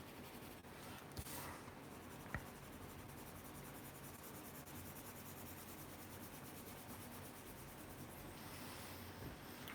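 Watercolor pencil drawing highlights on paper: soft, continuous scratchy rubbing of the pencil tip, close but faint, with no talking.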